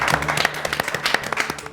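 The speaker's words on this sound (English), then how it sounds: "Let's give him a round of applause." A small group claps for a young spelling-quiz contestant. The scattered, light applause is close by and lasts under two seconds, with an uneven rhythm and a faint voice now and then.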